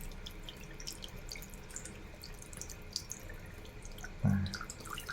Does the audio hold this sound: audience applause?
no